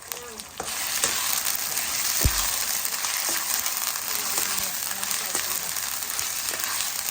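Chicken and sautéed onions fry in a pan with a dense, continuous close-up sizzle and occasional clinks of stirring. No speech is audible.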